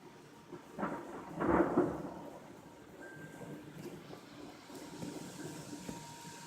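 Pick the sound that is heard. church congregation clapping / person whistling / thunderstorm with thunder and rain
thunderstorm with thunder and rain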